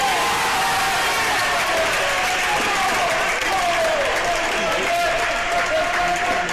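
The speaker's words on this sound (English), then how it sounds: "There's the crowd getting into it as Wampy gets the break" A college men's tennis crowd, Baylor against TCU, applauding and cheering steadily throughout, a dense, loud wash of clapping with a voice talking over it.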